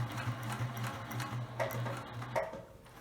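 Sewing machine stitching along the edge of a fabric placemat, a steady rhythmic motor hum and needle chatter with a couple of brief pauses and clicks.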